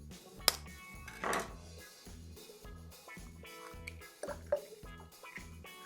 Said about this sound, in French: mais cette fois-ci, on rajoute du blanc d'œuf.